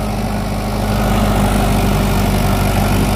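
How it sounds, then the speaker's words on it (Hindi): Mahindra 475 XP Plus tractor pulling a 9-tine cultivator through normal seedbed soil, a steady loud low diesel drone running continuously with no pauses and no talk. "9 हल वाली कल्टीवेटर के साथ में चल रहा है।"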